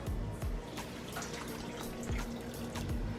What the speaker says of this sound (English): So I'm going to put them in a pot, a little pot, with 2 cups of water.